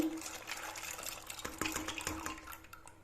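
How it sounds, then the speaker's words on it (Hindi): Splashing and clinking as soaked lentils are poured into leftover amla water in a metal pot, with a spoon scraping against the side. "ये जो आंवले का पानी बचा हुआ है मैं उसी में डाल रही हूँ इसे"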